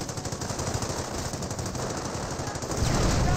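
A machine gun bunker in the World War II strategy game Company of Heroes fires a steady, rapid stream of shots, continuous and mid-distance, with no talk.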